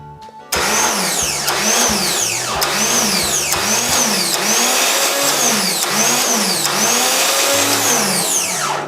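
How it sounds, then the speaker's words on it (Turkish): A 24-volt starter motor spun up on a workbench test kicks in abruptly and runs loud and steady, a whirring mechanical drone with a repeating pulsing rhythm and no talking. "şu anda 24 volt enerji verip marş motorumuzu çalıştırıp tezgahtaki testini yapacağız"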